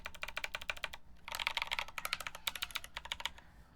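Rapid clicky keystrokes on a keyboard with Zeal clicky switches set to tactile mode arrive in quick bursts with short pauses between, close and fairly quiet.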